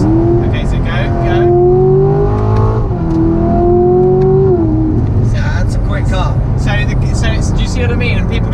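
Chevrolet Corvette C7 Grand Sport Collectors Edition engine pulling hard after a downshift, a steady rising drone that climbs in pitch through the gear, loud and close with road and cabin noise behind it.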